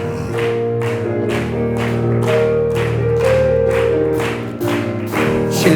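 A church congregation claps in steady rhythm along with a worship song, the evenly spaced claps sitting over loud organ or keyboard chords and sustained singing.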